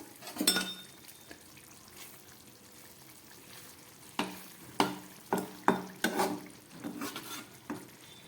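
Bata fish cooking in a pan over a low gas flame, a soft steady sizzle with a few clinks and scraping stirs clustered toward the end, close and quiet with no voices.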